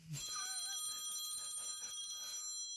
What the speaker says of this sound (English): That's a cell phone ring, not a genuine ring.